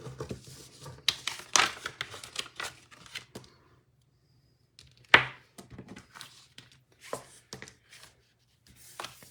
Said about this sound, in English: So I'm going to show you how easy it is to punch out this jar.